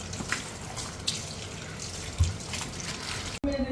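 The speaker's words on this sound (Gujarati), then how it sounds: "કેરીઓને વોશ કરી દઈશું." A tap runs steadily into a sink while mangoes are washed, a continuous splashing water stream with a soft thump partway through, ending in a brief cut.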